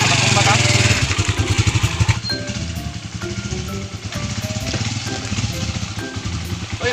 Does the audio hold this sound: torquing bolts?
no